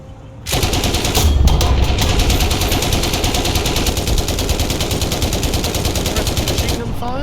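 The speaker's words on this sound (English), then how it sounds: "Machine gun fire." A machine gun in the War Thunder video game fires a loud, continuous, rapid burst that starts abruptly and hammers on for nearly seven seconds.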